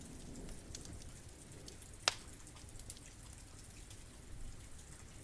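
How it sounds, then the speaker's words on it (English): Gentle night rain falls on the roof of a remote countryside inn, a faint, steady patter of fine drops with one sharp drip standing out, heard alone. "The rain has eased, not stopped."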